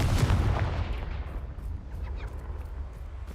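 A Confringo blasting spell cast in a Harry Potter video game bursts out loud and booming at the start, then decays into a rumbling, crackling tail that lingers for a few seconds, with no voices.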